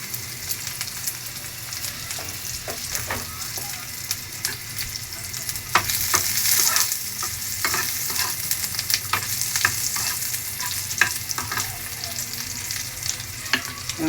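Garlic and onion sauté in a pan for a patola (sponge gourd) dish, giving a continuous close sizzle with repeated scraping and clicking as a utensil stirs, louder for a moment partway through.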